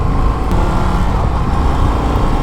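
An Indian FTR 1200 Carbon flat-track motorcycle in third gear in sport mode, its engine droning steadily and loudly under heavy wind rush, with no voices.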